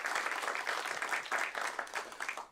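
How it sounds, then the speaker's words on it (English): An audience at a theater event on agribusiness applauds the host venue, producing a dense, continuous wash of many hands clapping that holds steady and tapers off at the end. "so let's give them a round of applause"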